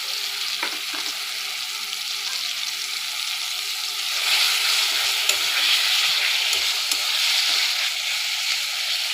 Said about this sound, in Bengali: এই পর্যায়ে দিয়ে দিচ্ছি চিকেন কিমা।